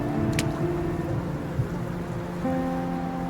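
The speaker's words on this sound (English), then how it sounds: "The downpour drapes over the glass walls by the street." Steady downpour of rain in the video game Love and Deepspace, falling against glass walls by a street, a constant soft hiss with faint droplet ticks and a low tonal hum beneath.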